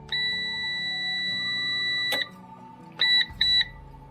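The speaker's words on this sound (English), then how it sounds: "Reconnect the battery, and the alarm will still be active." A PowerShield PSCRT2000 line-interactive UPS battery alarm sounds a sustained electronic tone, breaks off, then gives two short beeps, all loud and close with no talking.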